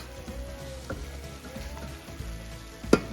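Chicken in chipotle cream sizzles and bubbles steadily in the pan, a soft, continuous frying hiss with a few small pops and a sharper clink near the end.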